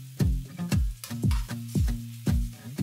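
Frozen peas stirred on a hot tawa for street-style pav bhaji: a spatula scrapes and clanks against the metal in a steady rhythm of about six strokes, over a soft sizzle, close and moderately loud.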